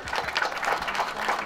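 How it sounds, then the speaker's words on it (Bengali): Audience applause at a subdivisional annual sports meet ceremony on stage, a steady dense patter of many hands clapping throughout, moderately loud and continuous with no voices. "জোরে হাততালি হয়ে যাক"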